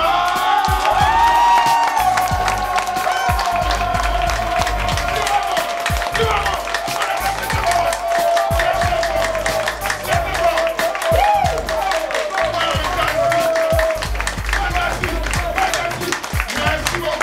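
An audience at a company headquarters inauguration claps and cheers with whoops and shouts, while a voice carries on over the crowd noise throughout.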